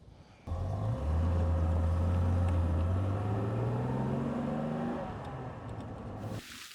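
A 1967 Jaguar S-Type 3.4 with a manual gearbox starts up and runs, its rising hum shifting upward as it accelerates steadily through the gears, heard from inside.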